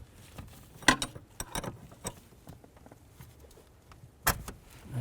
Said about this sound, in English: Take the nut off, use a 15mm wrench.